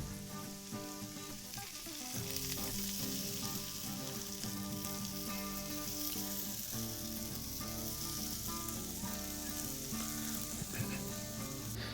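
Beer brats simmering in a tall 16-ounce can of dark lager over direct coals on a charcoal grill, giving a steady, dense sizzle and bubbling that runs evenly throughout with no talk.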